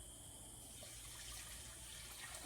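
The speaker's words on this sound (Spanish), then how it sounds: "Ahora ponemos un poco de agua." Water is poured onto rice in a cooking pot in a steady, soft, continuous stream, faint and unaccompanied by talk.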